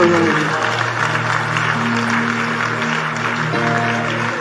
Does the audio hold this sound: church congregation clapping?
yes